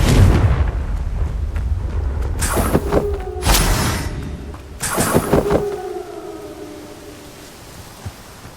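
Confringo blasting spells explode in Hogwarts Legacy, two loud fiery bursts a couple of seconds apart, each ringing out into a whistling, crackling tail, over a rumbling battle background that fades toward the end.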